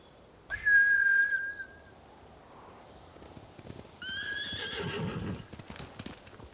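Trained samurai horses in the video game Ghost of Tsushima give a loud shrill whinny, then hooves clatter in rhythmic clip-clop as they run off, with a second fainter neigh over the galloping.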